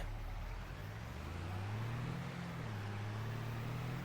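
A truck drives in Farming Simulator 25 with a steady, close engine drone whose pitch rises and dips slightly as it rolls along, over constant road noise and with no other sounds.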